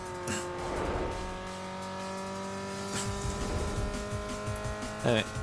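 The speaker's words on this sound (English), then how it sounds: "Now the actual V8 car doesn't sound like a V8. Why are the engine sounds broken today?" Ford Mustang V8 engine in the racing game Need for Speed Underground 2, a steady droning engine tone with buzzy harmonics running throughout under a person talking over it.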